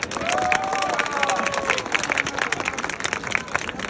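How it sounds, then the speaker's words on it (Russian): Football fans in a stadium applaud and cheer at halftime of a Fakel Voronezh vs Orenburg match, a dense, continuous roar of crowd clapping with a brief whistle-like tone early on. "аплодисменты, друзья."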